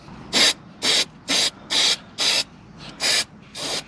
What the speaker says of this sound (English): So I'm going to spray in here.